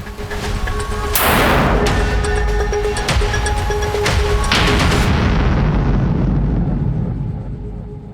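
A black powder firearm is fired into a block of ballistic gel, a loud booming blast followed by a long rolling rumble and a second burst, with no voices.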